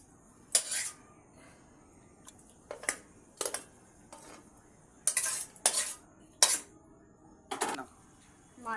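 Cornflour and egg being whisked together in a bowl, about a dozen sharp metallic clinks of a utensil against the bowl in uneven bursts with quiet gaps between, close and fairly faint.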